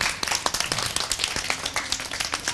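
A group of children clap for a classmate in a short, dense burst of close, uneven hand claps with no talking over it.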